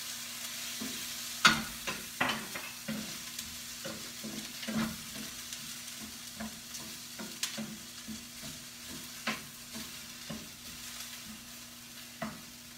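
Onions cooking in a hot pot for Moroccan chicken and couscous: a soft steady sizzle with repeated scraping stir strokes at an irregular rhythm, close and moderately quiet, with no talking.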